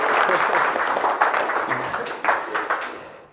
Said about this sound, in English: can we give David a big round of applause?